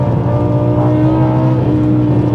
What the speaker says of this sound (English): Oh, get those revs up.